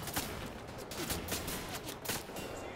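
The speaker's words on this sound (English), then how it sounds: "Who's shooting me?" Rapid gunfire in the World War II shooter Wolfenstein: The New Order, a dense stream of sharp bursts repeating through the whole span at steady loudness.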